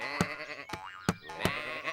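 Cartoon sheep on a farm bleating in short bursts, several wavering calls with sharp percussive hits between them over a bright tonal music bed, no talk.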